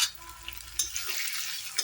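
Onion paste added to fried garlic in a pan for ghugni, sizzling steadily with stirring scrapes and a few louder spatters, close and without any speech.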